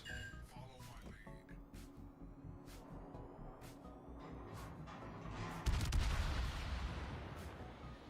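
Heavy naval guns of a Des Moines cruiser fire in World of Warships, a steady run of booming salvos with a louder, denser barrage late on, amid constant battle noise.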